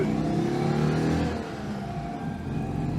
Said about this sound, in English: I'm now using half throttle, and we are accelerating uphill in just the way 2CVs don't.